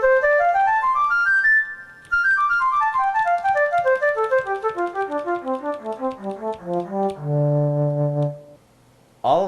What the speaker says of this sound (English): The pentatonic mode sounds like this.